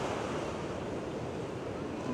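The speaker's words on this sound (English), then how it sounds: "Got a nice view of the ocean here." Steady broadband surf of ocean waves on the Oahu coast, a continuous wash with wind noise buffeting the microphone, no talking.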